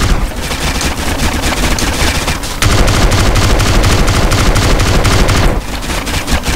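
Dense, rapid gunfire from the GTA San Andreas video game, with continuous automatic bursts and shots overlapping into a loud, unbroken barrage for the whole stretch, and no talking.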